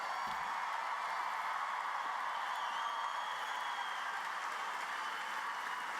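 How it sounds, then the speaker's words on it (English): An audience at the fall 2019 Texas A&M International University commencement applauds in a steady, even wash of many hands that holds for several seconds. "a round of applause for the 2019 summer and fall graduates from Texas A&M International University"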